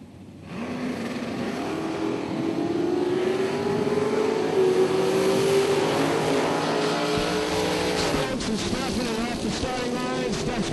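Drag racing cars, including a Mustang, launching from the starting line in a Super Pro bracket race, with loud sustained engine roar rising in pitch through the run and steady race noise to the end.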